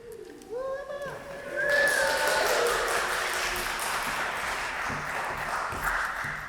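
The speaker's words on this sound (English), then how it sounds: "Thanks for the claps." A congregation at a service claps together in a broad, sustained wash of applause after a few brief ringing tones, holding fairly loud and steady to the end.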